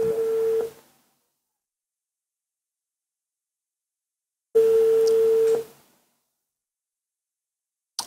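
A telephone ringback tone sounds while a call is being placed: two long steady rings separated by several seconds of silence, and a third ring begins just as the sound ends.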